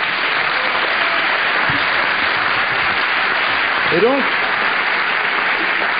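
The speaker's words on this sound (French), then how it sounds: "je vous demande de les applaudir" Applause fills a conference hall in steady, dense clapping throughout, with someone speaking French over it near the end.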